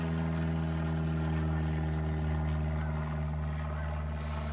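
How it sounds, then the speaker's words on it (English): An airplane passes overhead, a steady low engine drone with a constant hum that holds at moderate loudness and eases slightly toward the end. "we have an airplane going overhead"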